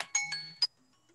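A short electronic alarm sounds during a talk, giving several bright chiming beeps in quick succession before cutting off into near silence.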